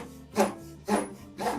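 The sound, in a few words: hand saw cutting wood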